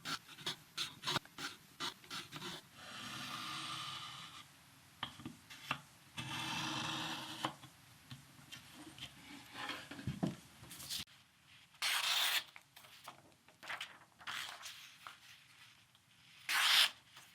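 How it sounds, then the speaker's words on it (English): A knife blade is drawn through a Work Sharp Combo sharpener in a few sustained grinding strokes, with rubs, clicks and handling noises between passes, close and fairly quiet. "And I will sharpen the last one here just to give you guys an example of a rather short,"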